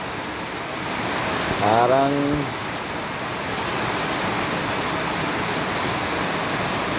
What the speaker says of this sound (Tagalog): sobrang lakas talaga ng ulan dito guys